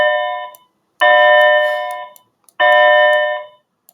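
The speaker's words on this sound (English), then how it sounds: "the bell rang" An electronic bell rings loud and close in three long sustained bursts, each tone fading slightly before a short silence and the next ring.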